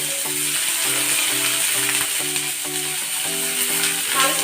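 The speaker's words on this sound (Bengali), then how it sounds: "হালকা ভেজে নেব, কিন্তু এটা কিন্তু খুব বেশি ভাজবো না" Onions fry lightly in hot oil in a kadai for a Bengali egg bhapa, giving a continuous close sizzle with a faint melodic background underneath.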